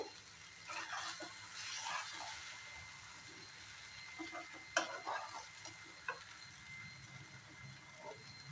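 Maggi noodles being stirred and mixed in a sizzling pan, with a steady scraping and frying hiss throughout and a few sharper clinks of the utensil against the pan.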